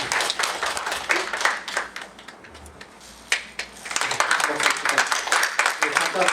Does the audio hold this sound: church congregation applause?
yes